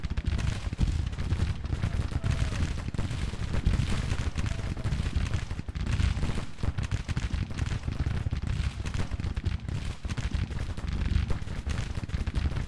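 Artillery and massed gunfire in the Civil War strategy game Grand Tactician, a dense, continuous rumble of booms and crackling volleys with no break, loud and steady throughout.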